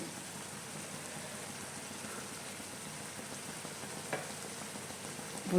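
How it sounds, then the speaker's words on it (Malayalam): Lemons sautéing in a pan for lime pickle give a steady, soft sizzle that stays even and close throughout, with a brief stir or clink near the end. "പച്ച സ്വാദ് പോകാനാണ് ഇങ്ങനെ വഴറ്റുന്നത്"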